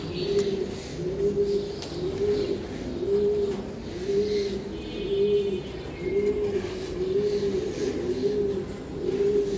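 Giribaz high-flying racing pigeons coo in a steady repeating rhythm, close and fairly loud over a constant background hum, with faint chirps from other birds.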